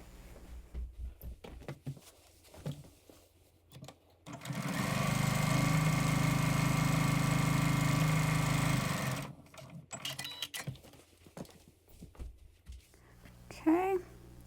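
Sewing machine stitching a quilt block in one steady, loud burst of about five seconds between stretches of handling noise and talking.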